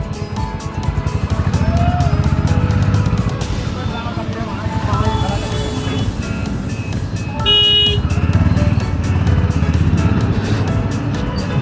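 A jammed road full of stalled traffic, heard from a Honda CB350 motorcycle, rumbles with a steady engine drone while car horns toot in short bursts, loudest near the end; someone talks over the noise.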